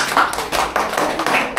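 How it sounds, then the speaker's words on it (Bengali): Group of students clapping for a girl at a Mahalaya picnic outdoors, a short burst of close, uneven hand claps with no talk. "সুপ্রীতির জন্য একটা হাততালি"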